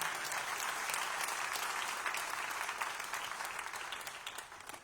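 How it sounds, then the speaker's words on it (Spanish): A church congregation claps together in praise, dense sustained applause that stays loud and even before tapering slightly at the end, with no talk over it. "Dele un aplauso al Señor."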